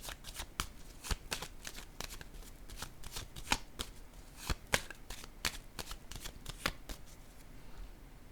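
Tarot cards being shuffled by hand, a close, quiet run of crisp riffling snaps and taps repeating in an irregular rhythm.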